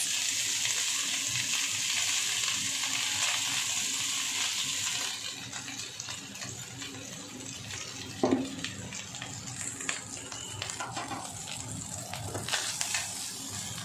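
Cooked rice tossed into a hot pan for egg fried rice sets off a steady hiss of frying that eases into softer sizzling, with occasional stirring clinks and scrapes close by.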